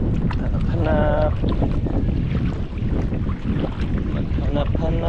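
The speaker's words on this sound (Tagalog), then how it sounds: "Grabe lakas sa hangin. Sa lakas ng amihan." Strong northeast monsoon wind buffets the microphone at sea aboard a small boat, a loud continuous roar with gusty rumble and splashing water, and a voice shouts briefly over it.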